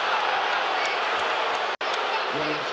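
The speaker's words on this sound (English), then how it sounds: "And the crowd not liking it." Large basketball arena crowd grumbling and murmuring in a steady roar after a blocking foul call, with a game commentator talking over it.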